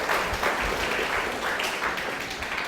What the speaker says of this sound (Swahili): Tupige makofi jaji wetu.